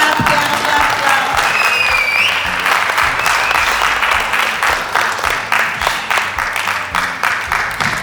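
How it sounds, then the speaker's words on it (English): Sustained applause from an award ceremony audience, dense steady clapping filling the room for the full stretch with a faint whistle or cheer briefly rising early on. "Clap."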